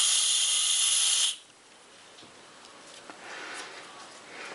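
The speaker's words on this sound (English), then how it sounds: "just an air hose. I've run it up, around, down into a little dryer here" Compressed air hose blasting loud and steady through a small inline water dryer before an automotive paint job, a harsh hiss that cuts off abruptly, leaving faint quiet hiss and light handling sounds.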